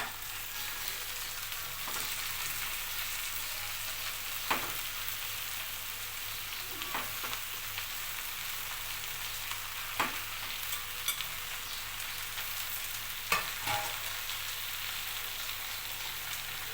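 Amaranth leaves fry in a pan with a continuous, soft sizzle, punctuated every few seconds by brief clinks and scrapes of a spoon stirring, low and close.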